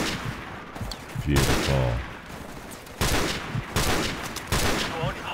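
Bursts of gunfire in the video game Modern Warfare Remastered, with several loud volleys and explosive cracks, mixed with chatter and a brief spoken remark.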